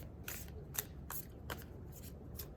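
Tarot cards being shuffled by hand, several quick crisp riffles and snaps in irregular bursts, close and faint over a low background hum.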